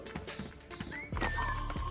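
A horse in a Fortnite prop hunt match gives a short whinny and a few clip-clop hoof sounds, moderately close, without voices.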